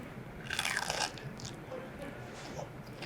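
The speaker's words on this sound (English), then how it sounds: "Crunchy at first, a little chewy in the middle." A close, crisp crunch of biting into a fried pickle, a short burst of crackly texture followed by quieter chewing.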